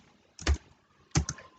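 Keystrokes on a computer keyboard while writing CSS code for a responsive web page, heard as two short clusters of close, crisp clicks separated by a brief pause, with no talking.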